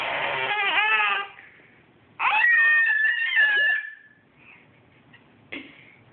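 A cat gives a drawn-out meow, then a longer, louder wavering yowl after a short pause, and ends with a brief, faint squeak.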